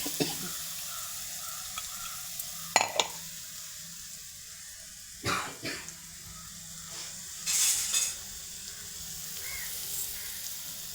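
Ground spice paste fries in a pan of oil for rasam, a steady soft sizzle with a few louder bursts of hiss and scraping as it is stirred, close and without voices.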